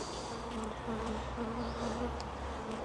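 Honeybees swarm around an opened hive during a split, a dense steady buzz close by with individual bees droning past, low in level and uninterrupted.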